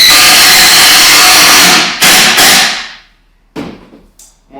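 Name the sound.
screws being driven into a wooden wall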